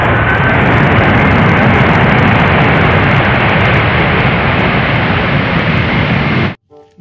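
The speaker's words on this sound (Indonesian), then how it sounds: "Wow, lihat, ada pesawat terbang." A toy airplane gives a loud, steady engine-like whir with a constant hissing drone for several seconds, then stops abruptly near the end.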